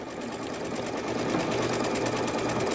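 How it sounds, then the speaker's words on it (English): A sewing machine stitches a patch onto jeans, giving a continuous rapid mechanical whirr and needle chatter, close and steady for the whole stretch with no talking. "we can lift our presser feet up and sew like normal people and hit the back button."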